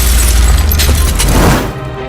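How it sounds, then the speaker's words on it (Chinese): A light bulb bursts in a movie scene, a loud sharp boom with shattering glass and a crackling burst that rings out and fades over about two seconds, with no talk. "灯泡爆炸了。"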